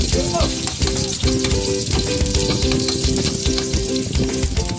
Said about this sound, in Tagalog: Ngayon, magkikisa naman tayo ng sibuyas, bawang,